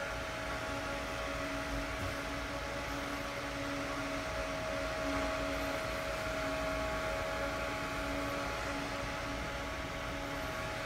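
A San Ace S7 120mm server fan runs at maximum speed, giving a steady, loud rushing whoosh of air with a constant tonal whine held level throughout, alone with no voices.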